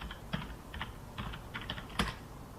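Keys clatter on a computer keyboard as code is typed in MATLAB, a run of quick irregular taps and clicks close up, with one sharper strike near the end and no speech.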